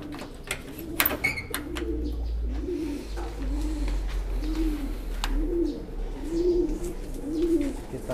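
A pigeon or dove coos at an event for competition songbirds, repeating a soft, low rolling call about seven times at a steady rhythm, close by, over a constant low rumble and faint background chatter.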